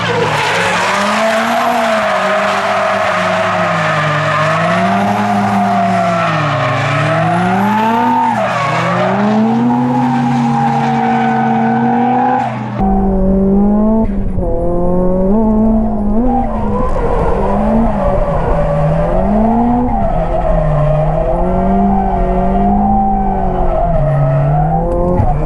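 Nissan Silvia S15 cars drift at Nikko circuit with long, loud tire squeals that rise and fall over hard-revving engines, continuous and close throughout, with a shift to a deeper, rougher roar midway.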